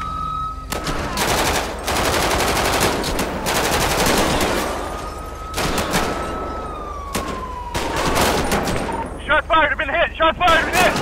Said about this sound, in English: Shots fired, I've been hit!